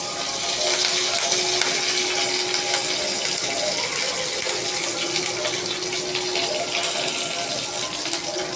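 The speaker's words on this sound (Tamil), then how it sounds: "கருவேப்பிலை, பட்டை, சோம்பு, ஜீரகம், கிராம்பு எல்லாம் டீப் ஃப்ரை ஆச்சு" Curry leaves, cinnamon, fennel, cumin and cloves deep frying in hot oil for an egg gravy, a steady loud hiss and sizzle that holds unbroken from start to end.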